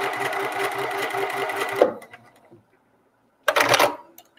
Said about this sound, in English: you want to sew beyond the hexagon